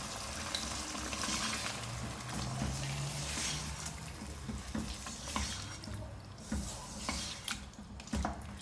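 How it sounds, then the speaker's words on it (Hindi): Half a kilo of mutton stir-fried bhuna-style in a pan, a steady close sizzle with scraping and stirring of a spoon against the pan, quiet and continuous with no talking. "भुनाई करेंगे इसकी कि कलर चेंज हो जाए गोश्त का"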